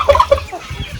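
Chickens on a Philippine poultry farm with over 200 birds, where turkeys are also kept, cluck in a few short, fairly close calls at the start, then fade to softer background clucking, with no talking.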